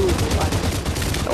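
Rapid gunfire in the VR battle game Population One, a quick run of close shots packed into a brief burst with a faint voice mixed in.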